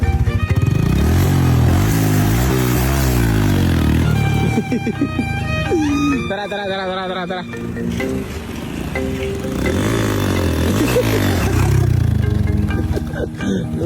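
A motorcycle engine revs repeatedly, rising and falling in loud, close bursts, with brief talking in between.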